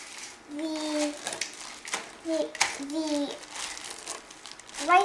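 A plastic bag crinkles and rustles in quick bursts as it presses a Rice Krispies and Nutella mixture down into a pie pan, close to the microphone, while someone talks throughout.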